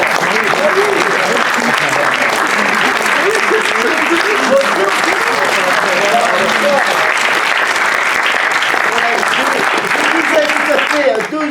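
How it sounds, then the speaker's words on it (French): Theatre audience of association members applauding in a hall, loud, steady sustained clapping filling the room for the whole stretch with a faint murmur of voices mixed in. "Je crois que vous pouvez vous applaudir, chers adhérents."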